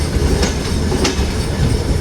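A passenger train running along the railway line, with a loud continuous rumble and rhythmic clickety-clack of wheels on track heard from aboard.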